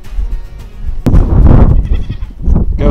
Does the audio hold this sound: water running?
no